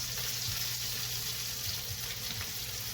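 Sour cream noodles frying in a pan make a steady close sizzle with faint scraping as they are turned over with two forks.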